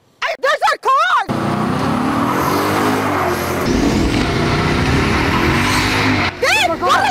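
A car rushes close past with a loud, sustained roar, with people talking briefly before and after it.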